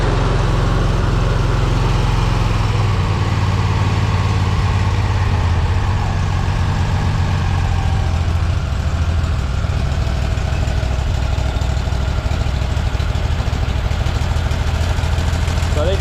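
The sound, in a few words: car engine idling on first startup after carburetor conversion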